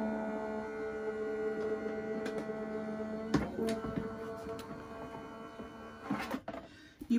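Sizzix Big Shot Switch Plus electric die-cutting machine running with a quiet, steady motor hum and faint whine, broken by a few soft clicks and ending with handling knocks.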